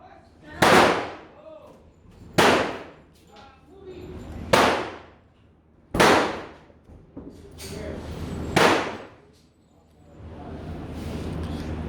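Gunshots at an indoor shooting range, five loud, booming reports spaced a couple of seconds apart, each with a short echoing tail, followed by a softer rumble of room noise.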